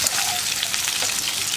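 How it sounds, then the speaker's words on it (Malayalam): Soya chunks fry in hot oil in a pan, a dense, loud, continuous sizzle and crackle heard up close with no voices. "നമ്മൾ ഈ സോയ ചങ്ക്സ് ഒന്ന് ഫ്രൈ ചെയ്ത് മാറ്റിയിട്ടാണ് ബാക്കി മസാല റെഡിയാക്കുന്നത്"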